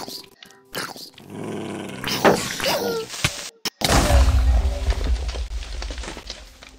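A dog in a video game growls low and rough for several seconds, near and loud, with a player speaking over parts of it.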